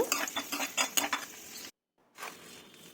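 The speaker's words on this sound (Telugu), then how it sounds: "కిస్మిస్ని కూడా బాగా వేయించుకోవాలి" Raisins frying in ghee in a pan while being stirred for a sweet semiya payasam: soft sizzling with repeated scraping and clinking of a spoon against the pan, a brief gap, then more gentle sizzle.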